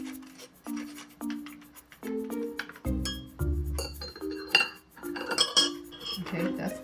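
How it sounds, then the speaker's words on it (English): Lemon juice is strained in a kitchen amid a run of clinking and ringing metal and glass, with utensils tapping and scraping against a bowl and strainer, close and fairly loud, in irregular bursts. "let's strain the lemon juice"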